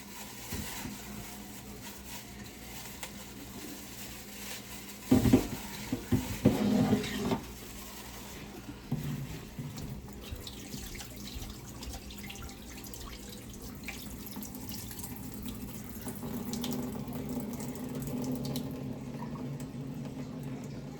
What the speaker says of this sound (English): Make sure you wash it before and after.